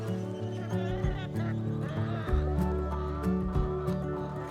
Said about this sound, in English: there's even a ready-made chicken pen. Chickens!